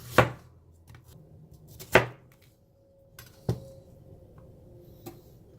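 Knife slicing onions and mushrooms lengthwise on a cutting board, three crisp, close chops about a second and a half apart followed by a fainter tap, in a quiet kitchen.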